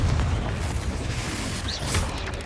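Confringo explosive spell blast in the Hogwarts Legacy video game, a dull booming burst layered over a dense rumbling game soundscape, steady and loud throughout without speech.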